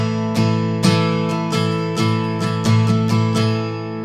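An acoustic guitar strums a steady down-up pattern of chords for the worship song Christ Be Magnified, each stroke sharp and close, ringing continuously over a few seconds with no voices.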